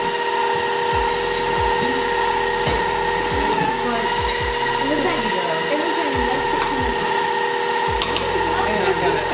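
An electric mixer whirs through apple sauce spice cake batter, its motor running steadily with rhythmic beater knocks against the bowl while voices talk over it.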